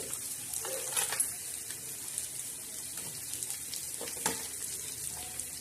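Chopped onion sizzles in a hot oil tempering for a bitter gourd chutney, a steady close hiss with a few soft stirring clinks and bursts of spatter.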